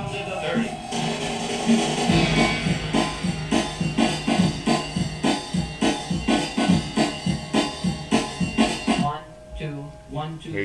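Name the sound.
flanging from two identical DJ tracks slightly off in pitch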